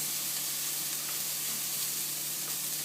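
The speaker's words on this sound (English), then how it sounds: "I'm going to stir that in with these vegetables." Vegetables sizzle softly in a frying pan as black pepper and spices are stirred in for a chicken and rice casserole, a faint, steady hiss with no voices.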